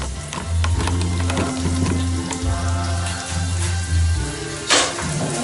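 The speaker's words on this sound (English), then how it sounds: "stir around the onions and the garlic" Onions and garlic fry in a pan for a chicken casserole with a steady sizzle, along with scraping and clinking as they are stirred. A sharper clatter comes near the end.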